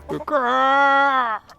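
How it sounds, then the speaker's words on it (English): A single rooster crow, a strained, steady harmonic call that holds for about a second and then breaks off abruptly, fairly close. "I hear him starting the crow,"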